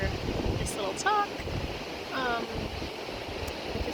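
Wind buffets the microphone as ocean waves roll and hiss at Cocoa Beach, a steady, loud broadband roar with surging swells, and a few brief voices or bird-like chirps cut through.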